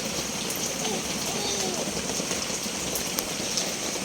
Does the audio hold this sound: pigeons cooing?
no